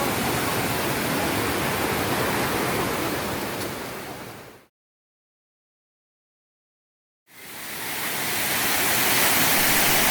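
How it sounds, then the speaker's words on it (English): A waterfall spilling over and around rocks during the monsoon, a loud, constant broadband rush that fills the scene, broken by a stretch of complete silence before the roar resumes. "The water making its way around, over and through the rocks makes a beautiful noise."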